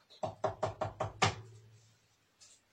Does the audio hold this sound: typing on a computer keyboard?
no